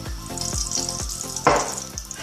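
Aubergine pieces fry in hot oil with a close, steady sizzle, broken by a regular stirring or tossing rhythm of soft thumps roughly every quarter second and one louder spattering burst partway through.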